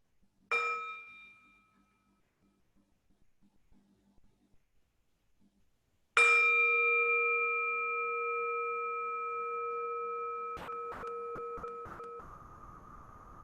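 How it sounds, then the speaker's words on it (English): A meditation bell is struck twice, the first ring decaying quickly into near silence, the second a long, bright ringing tone that fades slowly, with a few soft taps near the end. "So why don't we enjoy a sound of the bell?"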